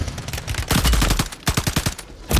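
Rapid automatic gunfire in a multiplayer shooter game, loud close bursts of evenly spaced shots separated by short pauses, with a final burst at the very end.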